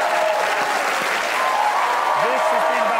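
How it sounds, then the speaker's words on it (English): A studio audience on a comedy chat show applauds the guests, loud, sustained clapping with some crowd murmur and a few faint voices mixed underneath. "A big round of applause to both of my wonderful guests this evening."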